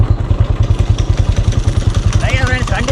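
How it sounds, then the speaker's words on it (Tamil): A small engine fitted to an old bicycle converted into a motorbike runs close by with a loud, fast, even chugging beat, while someone talks over it. "வண்டி பார்த்தீங்கன்னா ஸ்டார்ட் ஆகிடுச்சு"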